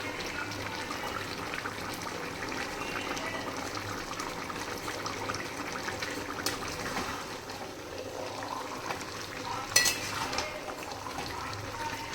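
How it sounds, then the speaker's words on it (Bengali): Metal spatula scraping and clinking against a pan while mixed vegetables are mashed into a Bengali five-vegetable sabji, with steady low sizzling underneath and a sharper clink near the end. "প্রত্যেকটা সবজিকেই খুন্তি দিয়ে এইভাবে একটু ভেঙে ভেঙে দেবো"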